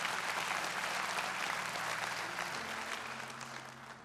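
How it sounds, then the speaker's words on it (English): Church or congregation audience clapping together, sustained and fairly distant, with a low steady hum underneath, thinning gradually toward the end of four seconds. "if you're going to clap, just commit"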